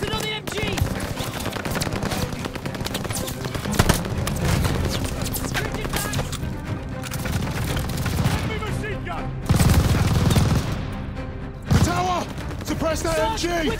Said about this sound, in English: Suppress that MG!